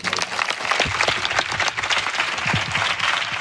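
A worshipping congregation claps loudly and fast in a Christian service, a thick, energetic burst of many hands lasting a few seconds, close and full.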